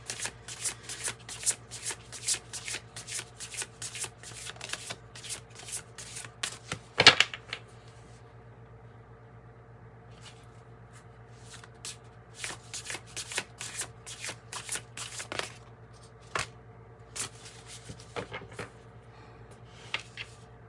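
An oracle card deck is shuffled continuously, a dense run of soft riffling card flicks close by, with one sharper slap partway through, no talking.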